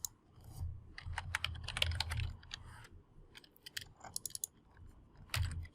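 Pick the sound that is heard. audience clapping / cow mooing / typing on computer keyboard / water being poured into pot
typing on computer keyboard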